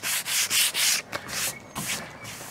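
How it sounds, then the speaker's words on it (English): Hand sanding of paint on an entry door, working through black paint to white at the corners: close, rhythmic scratchy strokes, four quick passes followed by a few longer, softer rubs. "So it's really hard not to do that on the corners."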